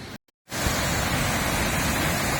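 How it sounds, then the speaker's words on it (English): A waterfall at Paronella Park in North Queensland at night roars as a dense, loud, steady rush after a brief moment of silence at the start, with no voices. "There's the waterfall all lit up at night."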